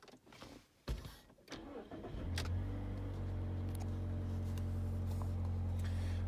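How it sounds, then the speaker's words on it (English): A car engine cranks with a few quick clicks and whirs, then catches and settles into a steady, loud idle hum for the rest. "So let's start the engine up and see what happens."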